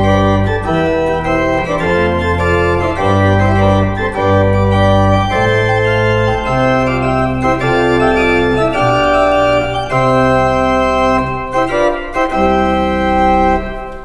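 Pipe organ improvising on the Psalm 93 melody, with the tune carried in the pedal under full chords in a dotted French overture rhythm, loud, dense and continuous, with no talking.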